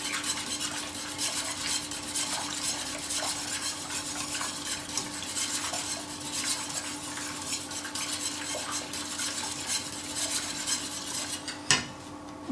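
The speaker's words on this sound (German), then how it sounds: "Ich tue dann nur die Marmelade umrühren, dass die nicht anbrennt." Jam being stirred in a pot on the stove while it comes to a boil, a steady scraping of the spoon against the pot running throughout with a soft bubbling underneath and a sharper clink of metal near the end.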